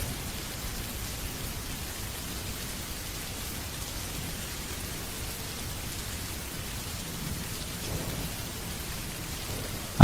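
Steady rain pours down in a dense, even hiss with a low rumble of distant thunder underneath, continuous and unchanging throughout.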